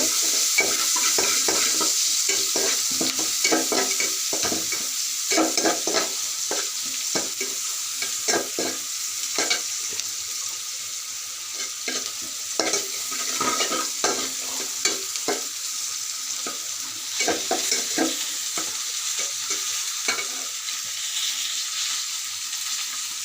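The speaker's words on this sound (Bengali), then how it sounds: "পেঁয়াজগুলো আমি একটু লাল করে ভেজে নেব।" Onions fry in a pan until reddish, giving a continuous hiss and crackle of sizzling oil, broken by frequent scraping and clattering stirs of a spoon.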